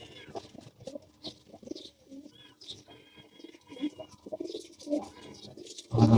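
Pigeons, including a young one, coo softly and intermittently inside a loft, with people talking nearby and a sudden loud rustle or clatter at the very end.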